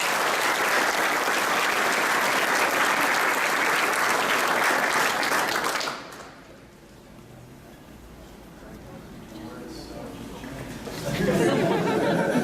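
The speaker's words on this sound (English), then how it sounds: "Please give a round of applause for Sergeant Deloach's hard work." A crowd applauds loudly for several seconds, then the clapping dies down to murmuring voices before swelling again near the end.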